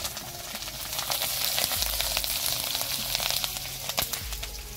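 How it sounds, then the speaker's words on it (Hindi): Mustard seeds fry in a pan with a steady crackling sizzle and scattered sharp pops, close and continuous throughout, with no voice over the cooking. "सरसों को फ्राई कर रही है वहाँ पर"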